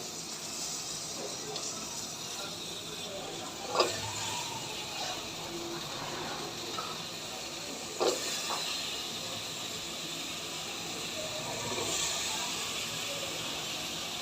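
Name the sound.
potatoes and Malabar spinach stalks frying in a pan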